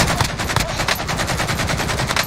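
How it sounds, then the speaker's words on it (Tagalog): Rapid automatic gunfire in a video game, loud close bursts of rattling shots in a fast, steady rhythm with no pauses. "Ang lakas ng baril ah."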